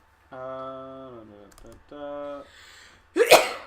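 A player at a tabletop role-playing session lets out a single sharp, loud sneeze near the end, after a stretch of drawn-out voiced tones.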